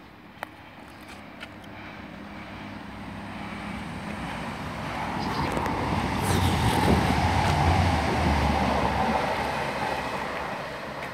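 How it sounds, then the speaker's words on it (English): A cross-country passenger train from Bournemouth to Manchester Piccadilly rumbles through Beaulieu Road station, the roar building from faint to loud and close as it passes, with rattling wheels and a couple of sharp clicks early on. "passing through now, we've got a cross-country service to Manchester Piccadilly from Bournemouth"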